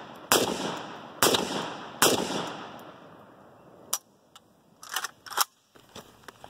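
Three sharp .308 rifle shots crack out at a target in close succession, each trailing off with a ringing tail, followed by quieter scattered clicks and a few lighter impacts.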